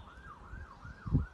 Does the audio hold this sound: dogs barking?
no